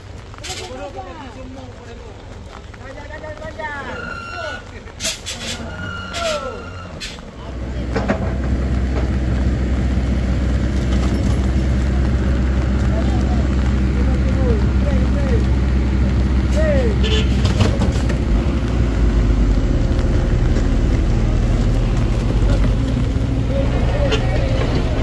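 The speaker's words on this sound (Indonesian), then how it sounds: "Ternyata truk kuso ini gagal menanjak juga." A Mitsubishi Fuso truck, about 220 PS, labours up a steep incline at Batu Jomba and fails to make the climb: a loud, sustained low engine roar that builds and holds under voices and shouting near the start.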